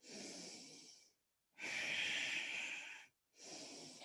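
Slow, audible breaths during a yoga session, three long hissing inhales and exhales with short pauses between, close and quiet, with no talking.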